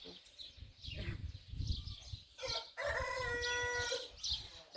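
Chickens cluck and a rooster crows nearby, the calls rising and falling over a few seconds, with faint background chatter.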